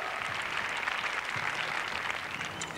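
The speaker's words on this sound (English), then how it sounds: "Let's give them a nice round of applause and wish them good luck." Audience applause at a baton twirling competition, a dense, continuous spread of clapping from a crowd that holds steady across the few seconds.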